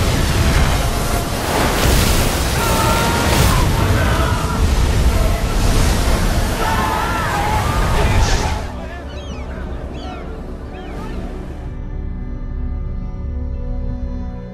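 Sea waves engulfing soldiers as a dramatic sound effect: a loud, roaring surge of crashing water and wind for several seconds, then dropping to a quieter wash with faint lingering tones.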